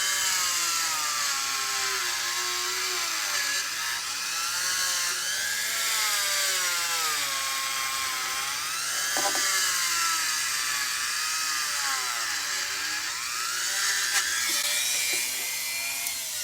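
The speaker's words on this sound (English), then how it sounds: "or if you're like me, whenever you get the chance," Power tool whining continuously as it cleans clay-like residue off a Garrard record player part, a high, buzzing grind with pitch wavering up and down as pressure changes, close and loud with no talking.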